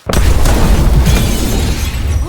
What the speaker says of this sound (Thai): ไอ้ฆาตกรมันได้แค่เอาไฟแช็กไปจุด ประทัดที่มึงเอามา แล้วรถก็ระเบิด